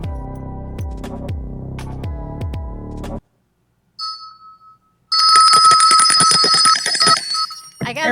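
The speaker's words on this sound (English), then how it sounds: "Oh, I hear the bells." A series of ringing bell tones sounds in a studio, first a quick run of struck low-to-mid chimes, then a pause, then bright, sustained high electronic ringing like a phone bell that continues loudly before cutting off.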